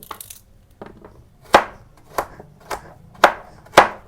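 A knife chopping carrots into pieces on a cutting board, a handful of sharp separate knocks spaced irregularly, close and clear against a quiet background with no talking.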